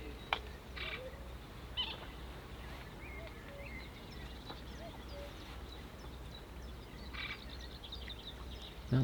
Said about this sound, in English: Now the cuckoo decides to show its voice